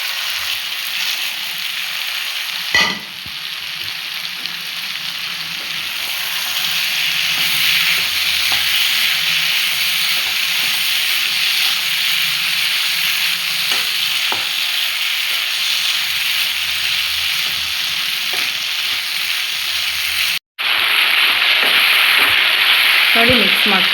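Okra (ladies finger) sizzling loudly as it fries in a pan for a Kannada bendekai gojju, with steady frying hiss and occasional stirring scrapes, close and continuous without talk.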